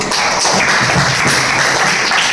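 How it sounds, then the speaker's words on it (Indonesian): Students in an Islamic religious education classroom clap for a group after its presentation, a steady, dense patter of hands filling the room for a couple of seconds. "tepuk tangan buat kelompok 2"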